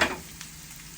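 Butter sizzles faintly in a pan alongside lobster tails and NY strip steak, a soft hiss that opens with a brief brighter burst, then settles into a quiet steady crackle with no talking.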